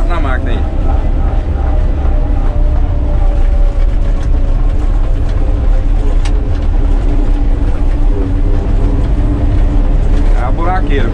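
A Caterpillar 120K motor grader's engine runs steadily on a road, a loud continuous low drone with mechanical rattling and whining tones, heard close from the machine without pause.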